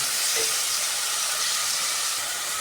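Ghee rice ingredients fry in a pan with a steady, close, even hiss that continues unbroken with no talking.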